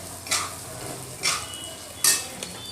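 Crushed ingredients, pounded in a mortar, are sautéed in a pan over a low flame: three distinct scraping strokes of a spatula, evenly spaced about a second apart, over a faint background sizzle.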